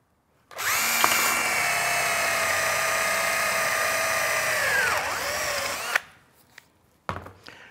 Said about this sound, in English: The holes are all drilled.